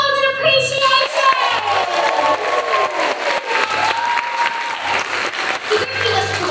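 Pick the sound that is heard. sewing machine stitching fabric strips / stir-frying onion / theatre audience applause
theatre audience applause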